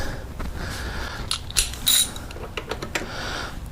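A ratchet wrench tightens the six rear brake bolts on a 2014 Kawasaki ZX10R, giving close, quick clicking runs and metallic creaks with short pauses between strokes, and no talk.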